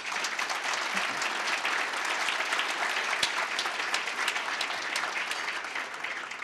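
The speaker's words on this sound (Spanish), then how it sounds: "el expresidente Ricardo Lagos Escobar, a quien pido un aplauso por su presencia." A lunch audience applauds to welcome a former president, dense steady clapping that fills the whole stretch at a moderate, even level with no speech over it.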